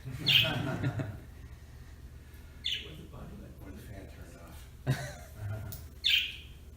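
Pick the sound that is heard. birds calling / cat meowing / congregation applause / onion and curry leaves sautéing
birds calling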